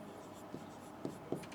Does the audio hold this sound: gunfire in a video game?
no